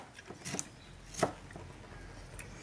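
A knife chops through capsicum on a cutting board for a salad, giving a few crisp, close, quiet cuts spaced irregularly apart.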